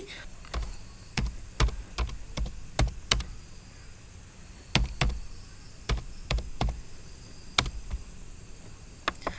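Bengali text typed on a computer keyboard: irregular clusters of sharp, close key clicks with short pauses between bursts, over a faint steady background hiss.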